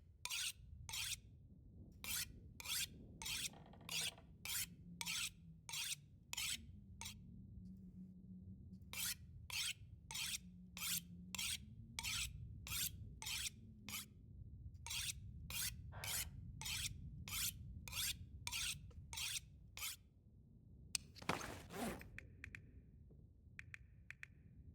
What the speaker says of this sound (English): Spend a little bit of time sharpening a knife like we did before.